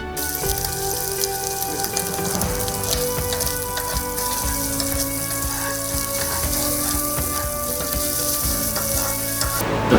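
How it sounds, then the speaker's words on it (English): Bacon crisping in a pan for rigatoni carbonara, a continuous bright sizzle and crackle heard under steady background music, with no talking. "Wait until the bacon is crispy."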